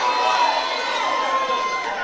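A wrestling arena crowd at a live show reacts with a dense wash of jeers and disapproving noise, loud and sustained, with a commentator's voice running underneath.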